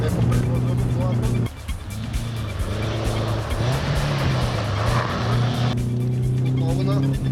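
A rally car's engine roars hard at full throttle in third gear at a rally school in Bulgaria, a loud continuous drone with shifting pitch throughout, and a voice talks over it.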